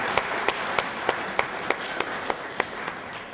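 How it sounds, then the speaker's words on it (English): Audience clapping at a church gathering in Congo, a steady wash of hands with sharp regular claps standing out roughly every third of a second, moderately faint. "Let's just clap our hands and appreciate them."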